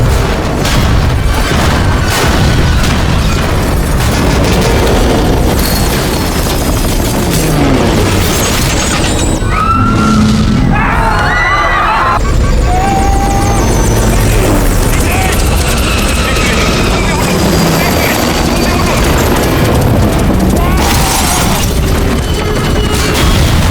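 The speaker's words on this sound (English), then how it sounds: "watching helplessly as the helicopter crashes into the glass curtain wall of the building" A helicopter crashes into the glass curtain wall of a skyscraper, heard as a sustained loud roar of rumbling booms and mechanical clatter, with brief cracking impacts scattered through it.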